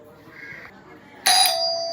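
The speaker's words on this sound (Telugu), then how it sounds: "కాలింగ్ బెల్ బిగించేసాడండి ఒకసారి చూద్దాం." A newly installed electronic calling bell on a hut is pressed for a test, giving a sudden bright chiming tone that rings on steadily after a moment of quiet room sound.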